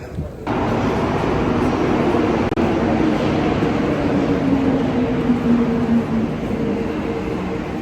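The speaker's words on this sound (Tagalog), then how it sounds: "Ganito yung loob ng tren." Steady rumbling roar of a moving train in Canada heard from inside, with a dull thud early on and faint talk beneath the noise.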